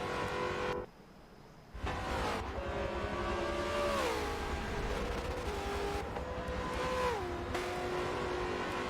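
V8 Supercars race cars roar past the start-finish line at Road America, loud engine drones rising and falling in pitch with gear shifts, broken by a brief dip before the next car passes close by.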